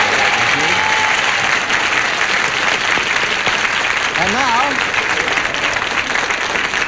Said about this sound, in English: Once again, a nice round of applause for a game well played.